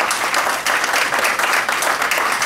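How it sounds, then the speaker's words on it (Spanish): Brief, vigorous applause comes from the audience at a book presentation, a thick even patter of many hands close by with no voice above it. "Aplausos, Talavera. ¡Bravo!"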